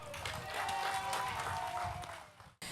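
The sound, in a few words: audience applauding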